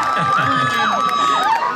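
Audience at a Thai temple Loi Krathong pageant in Los Angeles shouts and cheers in a short, loud burst for contestant number 10, with high whoops and children's voices rising above the crowd.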